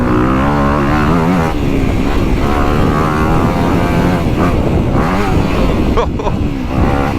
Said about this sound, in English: just the way the throttle responds, it picks up quicker, so that's noticeable